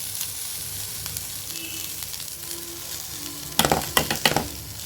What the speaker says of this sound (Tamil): இப்போ தேங்காயை சேர்த்து நல்லா நம்ம வதக்கிக்கிடுவோம்.